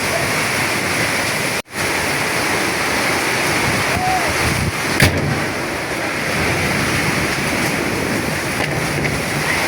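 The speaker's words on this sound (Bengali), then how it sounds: "এই ঝড় বৃষ্টি আজকে ঢাকাতে সেই ঝড় হচ্ছে, সেই বৃষ্টি হতেছে" A heavy storm in Dhaka's Gazipur area pours down with hail and strong wind, a dense steady roar of rain close by with a sharp cut-out and a brief knock midway.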